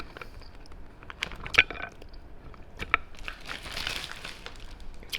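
Crunchy sour green mango being bitten and chewed up close, with moist crunching and crinkling bites and a couple of sharper snaps amid steady chewing, no voices.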